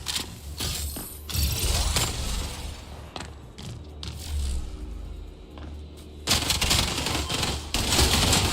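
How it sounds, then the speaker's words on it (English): Gunfire, clanking and a splinter grenade burst in the tactical shooter Spectre Divide, loud and dense, with rapid shots and metallic mechanical rattles churning almost continuously throughout. "Splinter grenade!"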